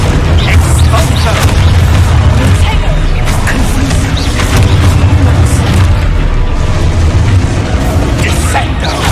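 A spell-casting explosion effect from the video game Hogwarts Legacy comes through as booming, crashing blasts within dense, continuous game combat sound, with voiced spell calls mixed in throughout.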